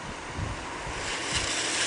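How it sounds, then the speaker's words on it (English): Hurricane Irene's wind roars as a steady broadband rush, with gusts building toward the end and no voices. "it looks like the wind's coming again, which means we're getting ready for another band of rain."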